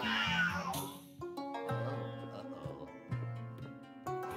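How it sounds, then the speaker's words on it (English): A cat meows several times in a quiet indoor space, soft repeated calls with short pauses between them, close to the listener. "That's the cat."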